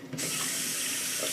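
Cold water gushes from a sink tap, starting abruptly and running loud and steady close by with no other sound.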